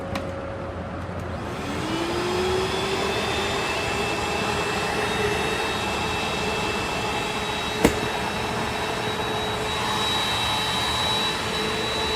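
A vintage Kenmore Whispertone vacuum cleaner with a worn brush belt runs with a steady, loud whine and whir, broken by a single sharp click partway through.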